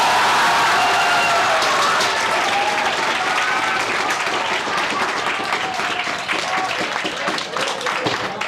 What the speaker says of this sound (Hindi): इसलिए जोरदार ताली बजाओ एक बार।